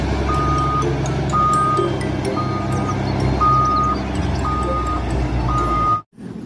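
A yellow toy mining truck gives loud, evenly spaced electronic reversing beeps, about six in a row, over a steady mechanical hum, and the sound cuts off abruptly at the end.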